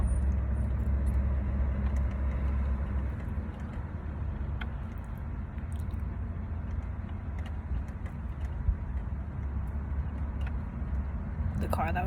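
A car rolls along a road behind, giving a steady low rumble of engine and tyre noise throughout, while a voice talks over it now and then.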